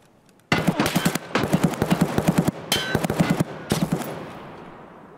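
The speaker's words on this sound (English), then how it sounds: "Bro, he's shooting at me!" Automatic gunfire in Escape From Tarkov: several loud, rapid bursts of shots with brief pauses between them, the last burst fading into a ringing tail.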